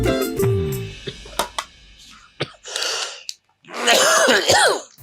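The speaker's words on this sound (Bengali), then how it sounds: "সারাদিন না আপনি নিজেই কাশের বড়ি বেছেন আর এখন নিজেই কাশতেছেন।" A man coughs and clears his throat in several harsh bursts at close range, followed by a longer strained, wheezy vocal fit.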